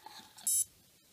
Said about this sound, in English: ESC motor combo that is beeping is this one, is motor one with the all three cables cut